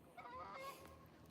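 Geese honk while flying in to land over Lake Billy Chinook, a single faint, short burst of nasal calls with no talk.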